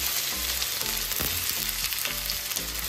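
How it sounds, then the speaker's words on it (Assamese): Onions frying in hot oil in a wok, a dense continuous sizzle with light crackles and occasional stirring knocks, close and steady, no voices. "এইখিনি আমাৰ গৰম হৈ গ'ল পিঁয়াজ দি যাব"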